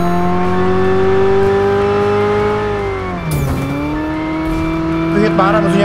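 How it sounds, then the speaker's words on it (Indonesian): A McLaren car engine roars loudly in a chase in PUBG Mobile, holding a steady high drone that dips sharply midway as it shifts, then climbs again, with brief tire noise. "Pengejaran di sini langsung dilakukan saja sama McLaren."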